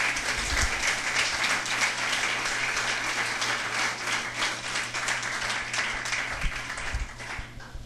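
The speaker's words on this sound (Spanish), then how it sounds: "Denle un aplauso al Señor amado." Evangelical church congregation applauding during a Spanish-language sermon, a dense, steady wash of many hands clapping that fills the room and holds at an even level for several seconds.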